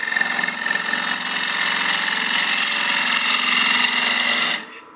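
A lathe tool cuts a wooden succulent planter, giving a loud, steady whirring hum with a continuous scraping hiss that holds evenly for about four seconds before cutting off.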